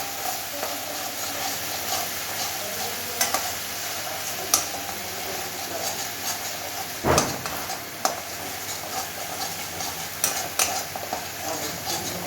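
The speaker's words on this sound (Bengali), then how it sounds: "লঙ্কা গুঁড়ো দিয়ে দিয়েছি, দিয়ে এবার ভালো করে নেড়ে নেবো।" A spice paste with chili powder sizzles steadily in a pan while being stirred for a Bengali egg curry, with scraping utensil strokes against the metal and a sharp clatter near the middle.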